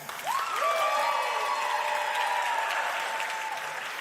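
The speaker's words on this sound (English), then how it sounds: "I want everyone to give him a big applause" Audience at the Voscars awards show applauding on cue in a practice round: a steady, loud wash of clapping holding for about four seconds, with a few high whistle-like tones gliding over it.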